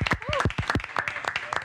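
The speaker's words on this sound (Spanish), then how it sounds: "Fuerte el aplauso." Studio audience applause on an evening TV variety show, with distinct sharp claps in an uneven rhythm under a voice, and a brief whistle-like tone partway through.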